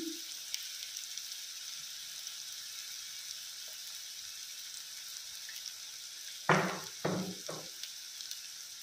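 Onions frying with salt in a pan give a steady, soft sizzle near the mic, broken late by three sharp scraping stirs in quick succession.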